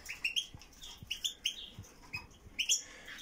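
Goldfinches chirp and sing in short, bright bursts of twittering notes that repeat irregularly at close range against a quiet background.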